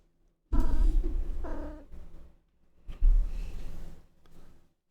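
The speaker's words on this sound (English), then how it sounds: "I've got a cat meowing at me" A cat meows and purrs close by, two bursts of vocalizing with a short gap between them, separated by near silence.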